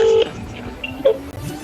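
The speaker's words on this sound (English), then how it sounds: "step 1 is we make some phone calls" Telephone keypad dialing tones as a phone call is placed to a repair shop, a couple of short steady beeps standing out clearly over quiet background noise.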